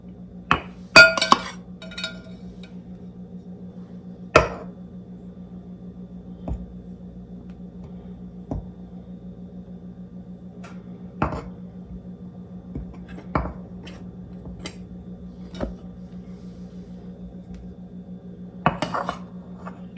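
Glass flour and sugar canisters clink while someone bakes in a home kitchen: scattered sharp glassy taps, some in quick clusters, ring out over a steady low hum.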